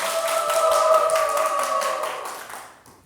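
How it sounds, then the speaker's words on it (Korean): A studio audience at a televised lecture applauds to welcome a guitarist, the clapping loud and close, a steady tone held beneath it, then fading out near the end. "박수로 청해 듣겠습니다."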